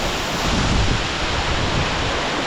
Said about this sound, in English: Bit of water spray with the wind,